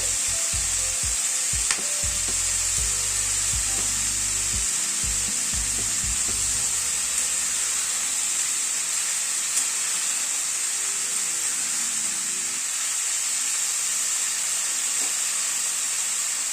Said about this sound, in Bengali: তারপরে একে একে সব সবজিগুলো অ্যাড করে দিচ্ছি। গাজরটা দিচ্ছি, বিনস দিচ্ছি,